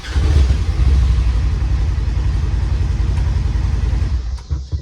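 A Polaris General XP side-by-side engine starts by push button and settles into a loud, steady, low-pitched idle near the recorder, with no talk over it.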